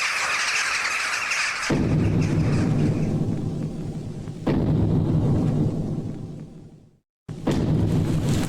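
A petard blasts in the video game Felvidek: loud, broad explosive bursts at about 1.7 and 4.5 seconds, each followed by a long rumbling decay. A short silence near 7 seconds is broken by another sudden burst.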